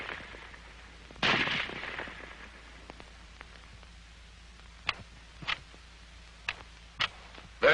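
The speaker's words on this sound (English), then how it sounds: "The rifle will fire each time the trigger is pressed until the magazine is empty." An M-1 Garand semi-automatic rifle fires several sharp shots, one early and a few more spaced unevenly near the end, over a quiet background.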